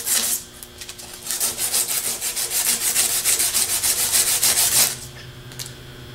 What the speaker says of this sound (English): Put the armature in a vise and use the sandpaper to sand the short side of the shaft in